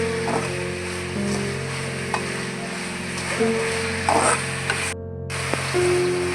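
Ginger garlic paste frying in a pan for coconut milk rice, a continuous close sizzle with intermittent stirring scrapes and a low steady hum underneath, one brief dropout near the end.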